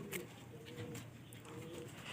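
Racing pigeons and stock birds coo softly together in a loft, faint low throaty coos repeating over a quiet background hiss, with no voices.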